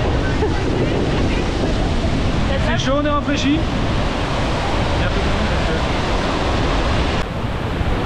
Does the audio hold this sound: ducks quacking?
no